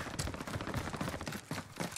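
Rapid bursts of gunfire in a Call of Duty match, crackling shots layered with footsteps and game noise in a dense, busy stretch with a brief gap midway.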